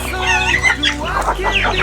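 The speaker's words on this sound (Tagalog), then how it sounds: "madali lang po dakpin yung manok dito" Chickens clucking close by in a rural yard, loud continuous fowl calls with rising squawks and a crowing-like cry layered over one another.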